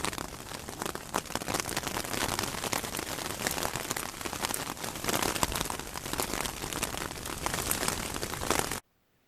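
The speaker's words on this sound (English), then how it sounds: "I think it's even hailing now." Hail and rain pour down steadily in a mountain thunderstorm, a dense, loud, crackling hiss of drops pelting surfaces that continues without letup before cutting off abruptly, with no voices.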